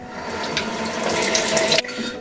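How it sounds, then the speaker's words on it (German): Cold tap water runs into a bathroom sink while a face is rinsed, a steady close splashing stream with bright hissing, ending in an abrupt cut as the flow changes. "wasche ich mein Gesicht nochmal mit kaltem Wasser ab."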